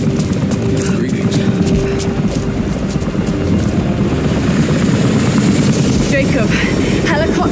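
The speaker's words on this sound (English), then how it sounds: "helicopters are headed your way." Loud helicopter rotors and engine drone in Rise of the Tomb Raider, a continuous close, heavy thrum that persists throughout, with faint voices mixed in.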